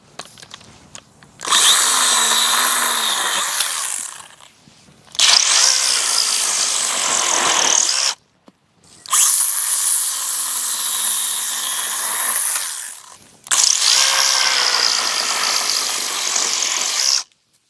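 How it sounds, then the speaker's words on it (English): A battery-powered electric chainsaw with a short 10 cm bar cuts through wood in four loud, sustained bursts, each a high whining buzz lasting a few seconds, separated by brief pauses. "Let's try that same cut again."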